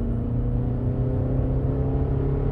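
A 2020 Toyota RAV4 AWD XLE with a 2.5-litre, 200-horsepower engine accelerating on a highway, heard as a steady low engine drone and whir from inside the cabin, moderately quiet.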